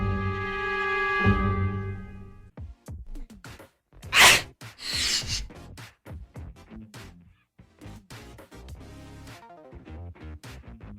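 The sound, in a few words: sneeze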